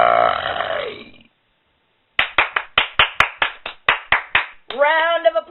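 J.T. lets out a loud, croaking burp at the very end, right after a quick run of about a dozen sharp, close hand claps. A voice talks at the start before a brief silence.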